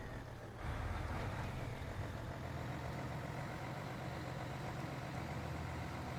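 A Mercedes-Benz truck engine idles in the SnowRunner video game. A low, steady diesel rumble starts after a brief quiet moment and runs evenly at a moderate level with no voices.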